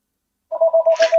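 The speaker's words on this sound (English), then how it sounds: "Your phone's blasting" A phone rings during a casual livestream chat, a steady repeating electronic tone in short pulses, moderately loud and close, with no talk over it.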